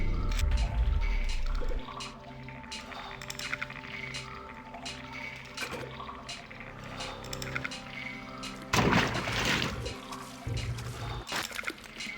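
A player character swimming through water in the Deus Ex video game, giving soft watery trickling and sloshing with a louder splashy burst near the end, under steady game ambience and music.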